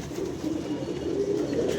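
Pigeons coo close by in a soft, continuous low warbling throughout a short stretch, with no talking.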